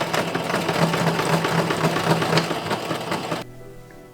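A sewing machine stitches the side and shoulder seams of an 1890s ladies' chemise, running steadily with a fast even whir for over three seconds before stopping abruptly, leaving quiet room tone.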